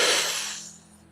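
A single breathwork exhale, a strong airy rush of breath that is loud at first and fades away within about a second, with no talking.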